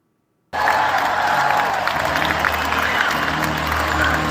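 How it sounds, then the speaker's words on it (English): A basketball crowd boos Indiana Fever head coach Stephanie White, a dense, loud roar of many voices that bursts in after a brief silence and holds steady throughout. "we have actual footage of the booing here"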